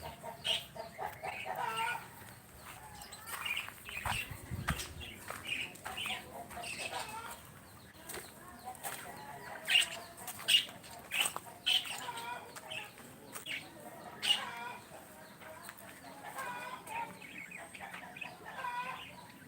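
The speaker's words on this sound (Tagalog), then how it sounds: "Ito yung ating bantam, si Rama na nag-iisa" Bantam chickens cluck and murmur nearby in a pigeon loft, with soft repeated calls, a short burst of wing flapping and faint background chatter.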